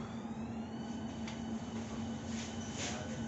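A new Berlin S-Bahn train runs on the S47 line between Hermannstraße and Spindlersfeld, giving a steady interior rumble with a sustained tonal hum and occasional brighter whines, moderately loud and continuous.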